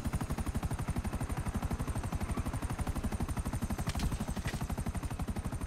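Helicopter in GTA 5 Online, a steady loud rotor chop thumping in a fast even rhythm throughout, close and continuous with no talking.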